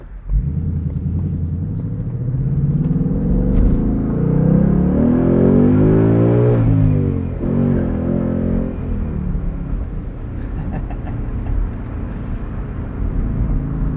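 A 2020 Ford Mustang GT Convertible Performance Pack with a six-speed manual rumbles loudly from inside the cabin, revs rising and falling through gear changes with rev matching, then settling into a steady drone.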